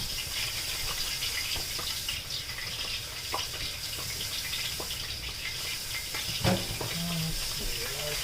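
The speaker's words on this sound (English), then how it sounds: "I can hear my oil's up to temp over there." Hot oil heated for frying panko-crusted tilapia sizzles in a steady crackling hiss with scattered pops, close and continuous, with a brief voice near the end.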